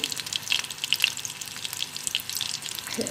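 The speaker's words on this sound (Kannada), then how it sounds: "ನಾನಿಲ್ಲಿ ಎರಡು ಮೂರು ಚಮಚ ಸಾಸಿವೆ ಎಣ್ಣೆ ಅಂತ ಕೊಂಡಿದ್ದೇನೆ ಇದರಲ್ಲಿ ಎರಡು ಮೂರು ಹಸಿಮೆಣಸನ್ನು ಹಾಕಿಕೊಂಡಿದ್ದೇನೆ" Green chillies sizzle and crackle in a few spoonfuls of hot mustard oil, a steady, bright frying hiss with small pops, close and alone with no voices.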